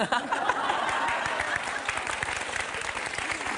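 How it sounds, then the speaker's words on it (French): A television studio audience of women applauding, sustained dense clapping close up, mixed with a few scattered chuckles. "Toutes les femmes applaudissent."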